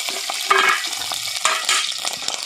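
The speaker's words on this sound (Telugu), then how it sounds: "ఆయిల్ వేడెక్కింది ఇంకా మసాలాలు కూడా వేస్తున్నాం" Whole garam masala spices dropped into hot oil for methi chicken curry: a bright, crackling sizzle with a couple of sharp spattering bursts and stirring scrapes, close and without speech.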